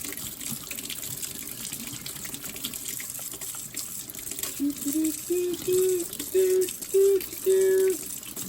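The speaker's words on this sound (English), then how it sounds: "Make sure you get a good lather and your hands are nice and washed." A tap runs steadily while hands are washed with soap beneath it, the water splashing and shifting in pitch as the hands move through the stream in the second half.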